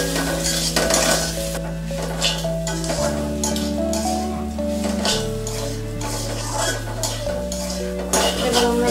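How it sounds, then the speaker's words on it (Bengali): Shredded coconut is stirred in a cooking pan for a coconut shrimp dish, with scraping and clinks of the utensil against the pan running steadily under loud, continuous background music. "নারকেল কুচিগুলো আমরা ভালোভাবে নেড়ে নেব"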